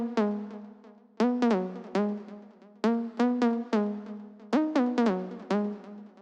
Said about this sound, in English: The first one we have is this synth lead